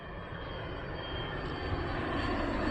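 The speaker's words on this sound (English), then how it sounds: "It's a private jet." A private jet flying by near Cologne Bonn Airport, its steady engine roar holding loud and close throughout, swelling slightly toward the end with no voices over it.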